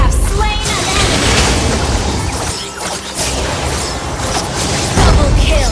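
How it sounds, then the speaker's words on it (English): A turret is destroyed in Mobile Legends, producing a dense, loud booming crash layered with game effects and busy battle noise that rumbles on for several seconds. "Launch attack! You destroy the turret!"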